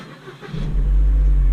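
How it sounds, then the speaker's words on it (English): A first-generation Holden Cruze J300 engine cranks and catches, rising from quiet into a steady, loud idle hum close by. "Press the brakes and start the car."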